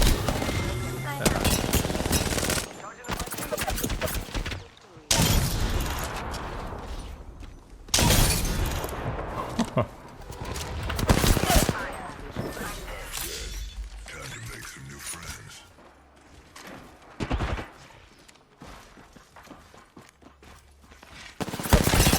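Repeated heavy weapon fire from the Charge Rifle in the Apex Legends video game, loud bursts and sharp blasts recurring throughout amid other game effects and a few voices.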